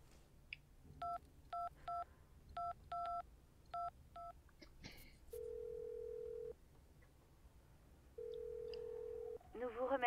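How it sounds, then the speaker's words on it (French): Telephone keypad tones dialing a number in the video game Syberia II, a quick series of short clean beeps in uneven groups, followed by two long steady ringback tones with quiet pauses between. "Je peux essayer de rappeler le numéro de téléphone"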